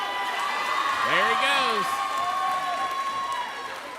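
A crowd in a school gym at a varsity boys and girls basketball game, West Lincoln against Bogue Chitto, cheers and whoops under a commentator's voice, with a brief swell of excited shouts midway.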